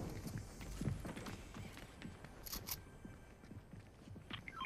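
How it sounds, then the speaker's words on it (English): Rhythmic in-game footsteps in the video game Fortnite, a steady run of soft thuds at moderate distance over a faint background, with no speech. "Wait, I hear footsteps this way."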